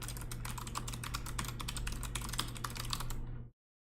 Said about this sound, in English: You hear that typing? That's some vigorous typing.